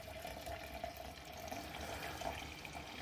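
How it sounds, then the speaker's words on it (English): Hot water pours steadily from a tap into cups, a continuous close splashing flow with a faint tonal ring and no pauses. "the water is getting hot and it's flowing right in up there."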